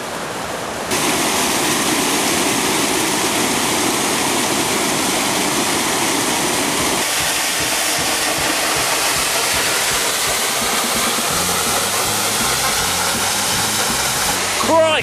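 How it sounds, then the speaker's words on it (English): Falling Water Falls in Tennessee, a waterfall reached on a day hike, roars as a steady, loud broadband rush that fills the whole span, close by and unbroken, with no voices over it. "We made it to the waterfall, but just barely."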